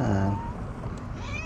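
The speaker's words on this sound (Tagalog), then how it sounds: "Away pa kayong mga pusa kayo" Cats meow loudly and close by in a brief, drawn-out cry that trails off, with no talking over it.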